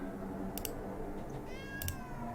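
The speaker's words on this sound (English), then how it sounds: "you can find the cat with your eyes closed because the cat meows when you come into the room" A cat meows inside the Spirits of Carter Mansion video game, two short bright calls around a second apart against a steady game background hum.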